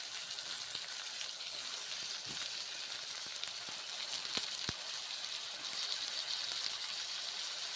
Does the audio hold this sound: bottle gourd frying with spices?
yes